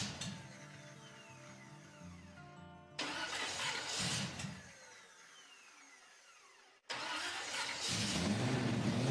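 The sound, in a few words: car engine starter cranking with difficulty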